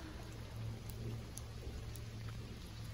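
Rain falling outdoors in Taiwan near a large, rare 2,500-year-old tree, heard as a steady, dense wash of hiss with a low rumble underneath, constant and fairly loud throughout with no talking.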